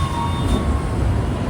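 Gurudev Express arriving at Vijayawada Junction in Andhra Pradesh, a steady close rumble of rolling railcars with a faint high wheel whine riding over it, continuous and without talk.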